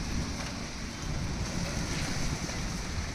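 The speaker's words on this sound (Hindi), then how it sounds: "कितनी तेज़ हवा चल रही है" Strong, gusty wind buffets a rooftop garden in an El Niño storm, a steady loud roar with rumbling microphone buffeting throughout, no voices.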